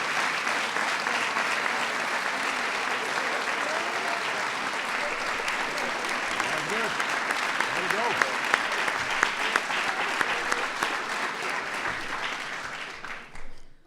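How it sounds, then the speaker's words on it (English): Long, even applause fills a White House room honoring the 2015 NCAA champion UConn Huskies women's basketball team, many hands clapping steadily before fading out at the end. "So that deserves a big round of applause."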